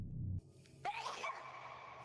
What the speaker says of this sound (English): I really gotta sneeze.